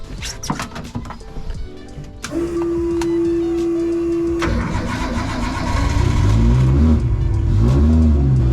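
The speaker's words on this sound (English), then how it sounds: "About to start the S14 up and street drive it to the track." A Nissan S14 engine cranks and catches at the start of a drift event day, settling into a steady idle before being revved repeatedly in rising and falling bursts, loud and close with no talking.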